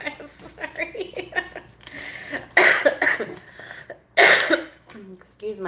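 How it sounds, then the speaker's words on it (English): A woman coughs several times, sharp loud bursts close to the microphone between stretches of her speech, with some throat clearing. "Excuse my cough."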